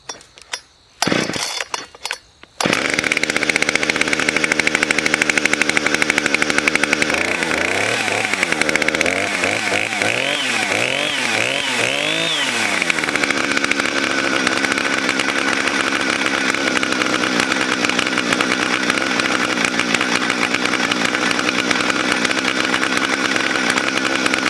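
A Husqvarna 460 two-stroke chainsaw runs steadily and loud after its low-speed carburetor screw is opened slightly, starting with a few short bursts, then holding a continuous high drone with wavering pitch swells in the middle.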